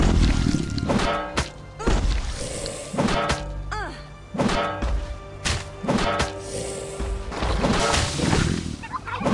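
In the mobile survival game Last Day on Earth, a turkey gobbles amid repeated heavy thuds and whacks, with layered game effects running throughout.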